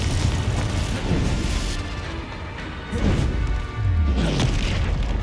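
Spell impacts and explosions from the video game Hogwarts Legacy, heavy booming blasts and crashes in quick succession, loud and close, with a low rumbling tail, and no talk.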